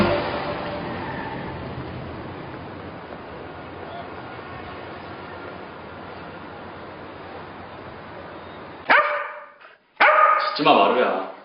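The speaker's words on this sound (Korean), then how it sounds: "짖지 마" A dog barking indoors, two loud sharp bursts of barks near the end that follow a long stretch of quiet background sound.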